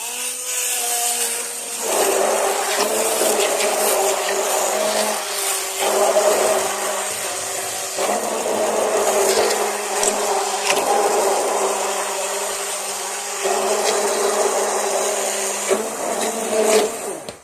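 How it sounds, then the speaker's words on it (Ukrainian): A blender blending fruit and pumpkin runs steadily with a loud whirring motor drone, pausing briefly a few times before revving up again. "Перебила я блендером"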